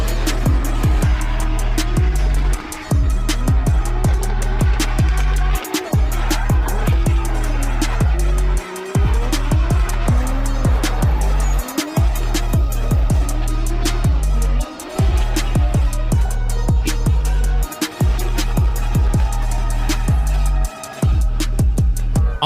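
A drift car circles a track in third gear, its engine revving hard and continuously with repeated brief throttle lifts every few seconds, loud and close throughout, with no talk.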